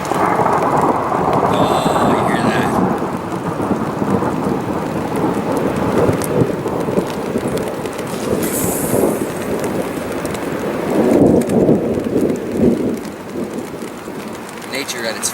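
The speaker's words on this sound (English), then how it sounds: "Oh, a lightning strike up in the mountains." Thunder from a lightning strike in the mountains rumbles long and deep through a steady downpour of rain, loud and continuous, with swelling rolls mid-way.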